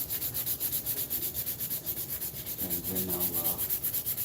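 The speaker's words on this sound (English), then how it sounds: "right now we're just putting basically our final sand on everything" Final sanding of a wooden piece by hand, a steady rhythmic back-and-forth rasp with even strokes, close by, with a brief spoken phrase partway through.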